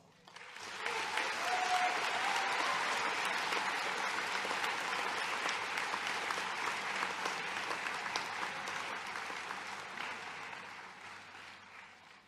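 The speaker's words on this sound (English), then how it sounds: "Let's give ourselves a big round of applause." Graduates at a 2017 NUS commencement ceremony break into sustained applause that swells quickly after a quiet start, holds as a thick, even roar of clapping for about ten seconds, then begins to fade.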